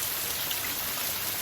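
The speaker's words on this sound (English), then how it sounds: "Since a few days ago rain is not occurring properly, but since this morning the rain starts." Steady rain falls on a rainy day in a farming area, a continuous dense hiss of drops with no pauses and no voices.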